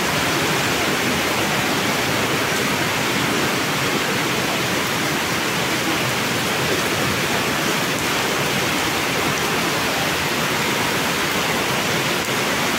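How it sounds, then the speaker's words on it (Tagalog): Heavy rain pours steadily throughout, a dense, continuous broadband roar with no breaks and no voices. "Kasi malakas ang ulan."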